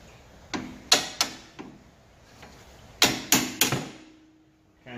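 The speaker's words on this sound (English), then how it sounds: "you need a hammer and a punch now to hammer that bolt through" Steel hammer striking a punch to drive a bolt out of the upper wishbone on an Alfa Romeo 147/156/GT front suspension; sharp metallic blows land in two clusters, three then four, close and loud with brief ringing.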